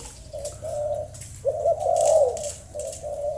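Close, clear cooing from a dove, a series of rolling hoots with one longer swelling call in the middle.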